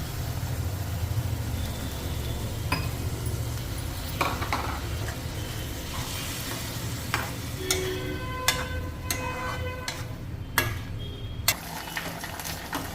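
Thick paste is poured into a hot pan, setting off a steady sizzle, then a few sharp clinks and scrapes of stirring.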